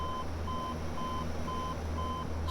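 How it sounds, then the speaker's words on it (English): A cockpit warning in the Majestic DHC-8 Q400 flight simulator beeps in a steady, evenly pulsed pattern over a constant low hum. "Let's wait till it stops beeping at us here."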